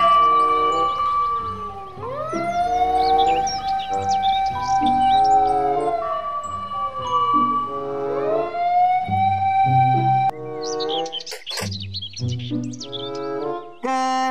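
A toy fire truck wails with a loud electronic siren that sweeps up and down in repeated cycles, then switches to jumbled beeping tones and chirps near the end.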